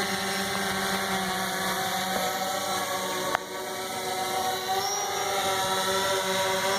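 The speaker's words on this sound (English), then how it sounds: "This is the best drone I've ever owned." A DJI Phantom 4 drone hovers steadily, its rotors giving a continuous high-pitched buzz with layered tonal whine, even and fairly close throughout, with one brief click partway through.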